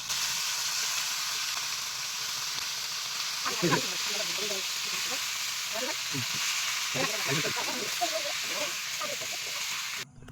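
Pieces of meat fry in hot oil in a pan over an outdoor wood fire in a village, giving a steady close hiss with bursts of sharper crackling as more meat goes in. A voice speaks briefly over the sizzle.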